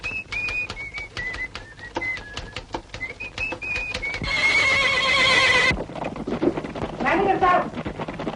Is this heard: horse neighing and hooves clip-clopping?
yes